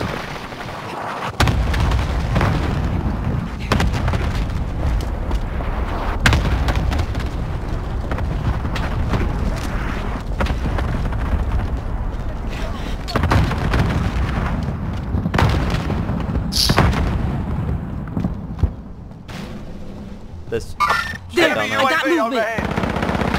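Continuous heavy gunfire and explosions from a war video game battle below, dense machine-gun bursts and booms rolling on for many seconds with a few sharp louder blasts near the end.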